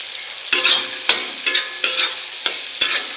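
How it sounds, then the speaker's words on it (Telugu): Chopped vegetables with carrot pieces and capsicum fry in a pan while being stirred, giving a steady sizzle broken by about six distinct scraping strokes of the spatula at a regular pace. "ఇప్పుడు క్యారెట్ ముక్కలు కూడా యాడ్ చేయండి"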